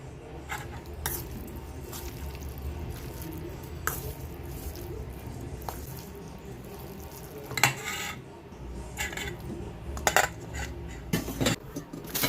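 Black pepper being stirred into a seasoning mixture for Korean japchae noodles, heard as soft scraping and mixing with scattered sharp clicks of a utensil against a bowl, quiet and irregular, with no talking.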